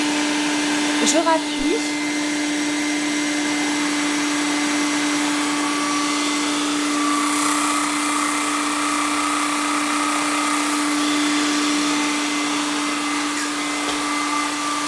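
An Evertop 3-in-1 cordless vacuum cleaner runs with its internal brushes spinning, giving a steady close motor whine and hum throughout, with a brief click near the start and a short spoken remark early on.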